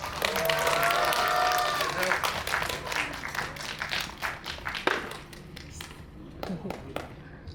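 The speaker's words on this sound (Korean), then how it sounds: "나오실 때 큰 박수" A cinema audience applauds as film actors step out for a stage greeting before a screening: loud, dense clapping that thins out and dies away into scattered claps toward the end, with a voice briefly heard.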